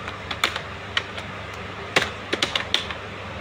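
Typing on a computer keyboard while entering table text in PowerPoint, irregular clusters of crisp key clicks with pauses between them, close and moderately quiet with faint background hiss.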